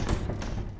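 Depulso spell striking in Harry Potter and the Order of the Phoenix, a short soft thud followed by lighter taps and bumps, fairly quiet and close.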